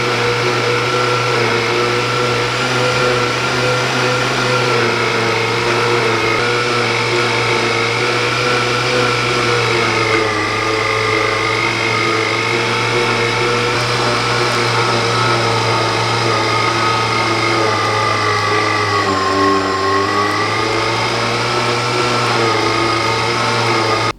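A meat grinder runs continuously as meat is ground for South African boerewors, a loud steady motor whine with a constant low hum and slight pitch wavers.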